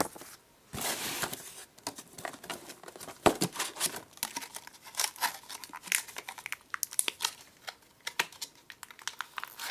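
A slightly wrinkled Beyblade sticker sheet is crinkled and handled up close, giving a stream of irregular crackling and rustling bursts with brief pauses.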